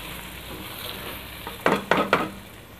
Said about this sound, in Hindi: हमने कीमे और अंडे को मिक्स कर लेना है। इस तरह से हल्के हाथ से आपने मिक्स करना है।